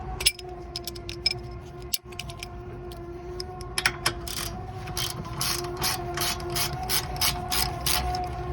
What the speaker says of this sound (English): once it's loose, then you can put ratchet on it